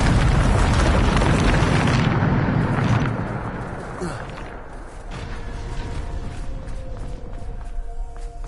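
Blasting spell detonation in a Hogwarts video game, a loud roaring explosion that rumbles for about three seconds and then fades into crackling debris and lingering game ambience.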